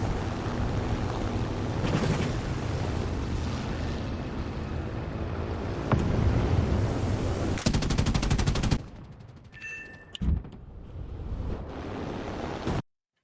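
B-34 bomber machine guns firing during aerial combat in a video game, dense rapid gunfire under a roaring engine drone that cuts out abruptly, followed by quieter rumbles and a brief beep.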